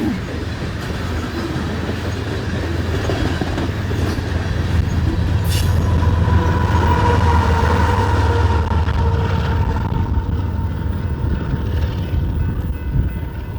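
A long coal train rolls steadily past with a distributed power unit locomotive mid-train in Louisville, Nebraska, giving a continuous loud rumble of wheels and cars with faint squeal and clatter, the engine drone swelling then easing.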